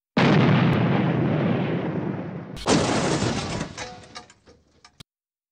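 Heavy cannon fire strikes a ship in a video game, a loud sustained blast followed by a second sharp impact and crackling debris that trails off into scattered ticks.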